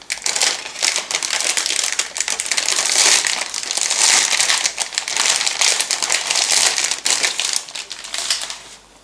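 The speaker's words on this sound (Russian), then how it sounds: "Дальше пакет с лесниками." A plastic bag holding the sprues of a 1:35 plastic model kit of the 1930 Rheinmetall Leichttraktor tank is handled and opened. Close, continuous crinkling and rustling with sharper crackles, no talk.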